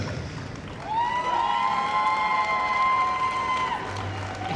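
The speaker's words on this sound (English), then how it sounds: "A huge cheer there going up for the Hernwood Gordon Setters" Crowd cheering and applause at Crufts for the Hernwood Gordon Setters, a sustained roar of many voices with a long whistle-like tone running through it.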